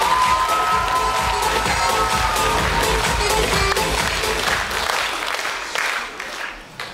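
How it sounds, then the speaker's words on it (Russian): Audience applause with cheering and children's shouts at a dance and fitness school's year-end concert, loud and sustained at first, then tapering off toward the end. "Аплодисменты"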